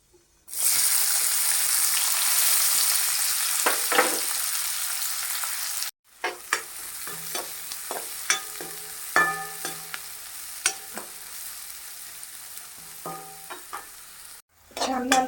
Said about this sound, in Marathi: आता आपण कांदा टाकूयात.